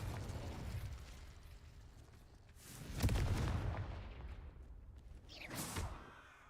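Spell blasts from Incendio and Confringo in Hogwarts Legacy, heard as booming, explosive bursts that swell around the middle and return near the end, loud with no talk over them.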